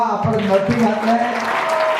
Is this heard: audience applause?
yes